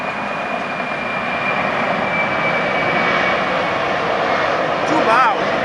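An Atlas Air Boeing 747-400F cargo jet taking off from LAX, a loud, sustained engine roar with a steady whine, heard from nearby with people talking over it.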